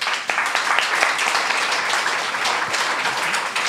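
Dense, steady applause from a studio audience welcoming two guests onto a French talk show, loud and continuous throughout with no speech over it.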